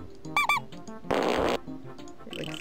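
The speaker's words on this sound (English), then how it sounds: "It, like, farts." A cartoonish fart noise from a clickable object in the Pajama Sam 2 point-and-click game rasps out loudly for about half a second, between squeaky, bubbly sound effects and a short musical toot, with no talk over it.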